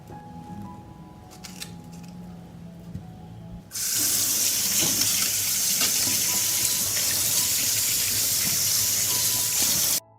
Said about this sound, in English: First, I will wash and clean the strawberries.